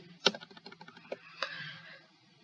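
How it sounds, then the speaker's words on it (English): Numbers are typed rapidly on a computer keyboard, a quick flurry of close key clicks with a few harder taps, heard alone. "just spam numbers on our keyboard."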